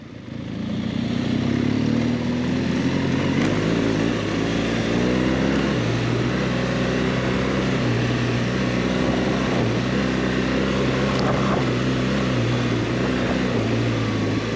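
A BMW GS 1200 motorcycle rides a trail, its engine droning loud and continuous as the pitch rises and falls through gear changes, with no talking over it.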